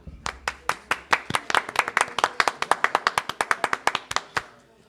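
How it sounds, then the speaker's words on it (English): A small crowd in a dive bar claps by hand, a dense run of sharp, loud claps in a quick, fairly even rhythm for about five seconds, with no talk over it. "Let's get a hand clap for that."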